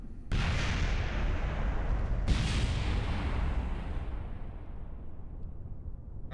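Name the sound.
part exploding in Kerbal Space Program video game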